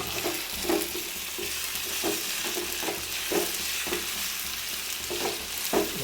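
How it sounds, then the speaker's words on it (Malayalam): Onions with salt being stirred and sautéed in a pan for a pomfret dish, the spatula scraping in regular strokes roughly every half second over a constant close sizzle. "എന്നിട്ട് നന്നായിട്ട് ഇളക്കി നല്ലപോലെ വഴട്ടി എടുക്കുക"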